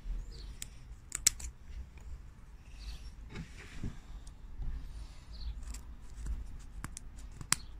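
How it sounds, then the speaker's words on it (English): Sharp scissors snip in scattered, sharp clicks close by, cutting the paws off a grey squirrel carcass, irregular cuts with quiet rustling between them and no talking. "I'm just going to take a sharp pair of scissors"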